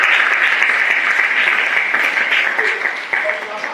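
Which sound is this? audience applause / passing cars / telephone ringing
audience applause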